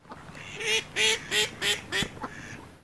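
A dog lets out a run of five or six honking, duck-like squeals in quick bursts, fairly close, followed by a couple of shorter yelps.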